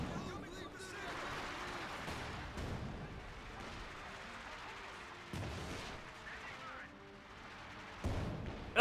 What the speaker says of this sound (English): Mortars and machine guns.